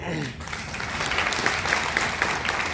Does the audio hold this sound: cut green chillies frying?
no